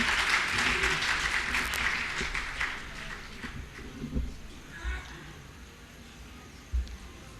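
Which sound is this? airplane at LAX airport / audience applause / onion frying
audience applause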